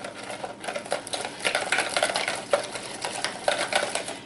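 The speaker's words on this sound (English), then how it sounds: "Just whisk that up good." Pancake batter for a Pennsylvania Dutch apple pancake is whisked in a bowl, making a fast, continuous light clatter and swish up close at a soft level, with no voices.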